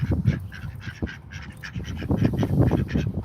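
Ducks and geese on a backyard quackaponics setup give a run of loud, close quacks and honks, rapid and overlapping, with several birds calling over one another and no talking.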